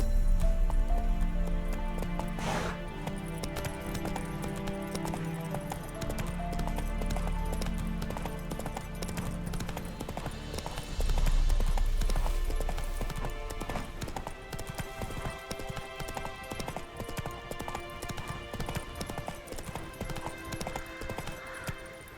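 A horse gallops in The Witcher 3: Blood and Wine, its hooves pounding in a steady, fast clip-clop over a dense layer of game music and ambience for the whole stretch, with no talking.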